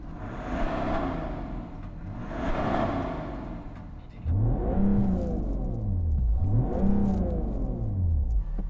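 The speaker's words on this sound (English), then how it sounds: "So let's rev up your car." A BMW 3 Series Touring diesel engine is revved twice, each blip climbing and falling away, first muffled and then louder and clearer with a strong low rumble, without talk.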